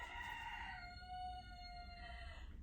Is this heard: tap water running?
no